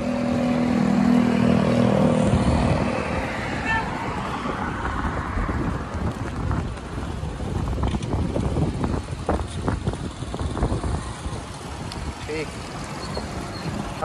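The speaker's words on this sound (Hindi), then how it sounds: "हवा भी बहुत चल रही है" Strong wind buffets a microphone outdoors on a dusty day, a loud continuous roaring rumble with gusty surges, with someone talking over it.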